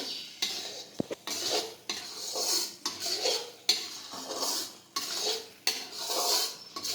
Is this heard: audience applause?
no